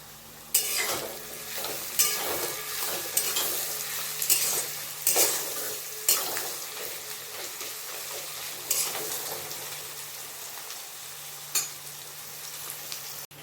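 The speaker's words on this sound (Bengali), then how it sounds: "পেঁয়াজ ভাজা ভাজা হয়ে গেছে" Onions fry in a pan with salt for a desi chicken curry, a constant sizzle punctuated by regular scraping strokes of a spatula stirring them.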